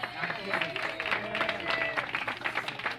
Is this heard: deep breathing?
no